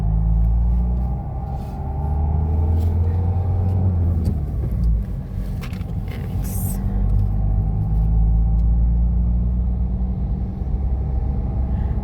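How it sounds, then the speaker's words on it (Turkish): A car pulls away uphill on a driving test route as the clutch is let out, engine rumbling close and steady, rising briefly in pitch midway before settling back to a low drone. "Araba kalkıyor arkadaşlar zaten kendi."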